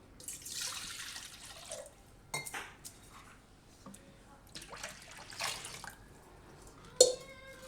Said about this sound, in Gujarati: તો આમાં આપણે 1 કપ જેટલું પાણી નાખીશું.